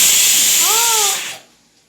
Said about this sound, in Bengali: প্রেশার কুকারে সিটি পড়ে গেছে